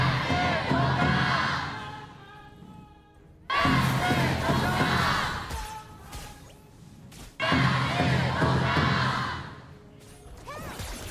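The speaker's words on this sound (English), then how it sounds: "let's hear the audience cheer for their teams" Large arena audience at a KPL esports grand finals in Changsha cheering and roaring in three loud surging waves, with brief quieter gaps between them.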